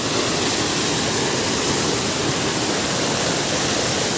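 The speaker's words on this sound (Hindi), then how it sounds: "यहाँ से पानी आ रहा" Water gushes from a clogged tap pipe on a hillside in Bageshwar, Uttarakhand, a loud, unbroken rushing hiss close by with no other sound.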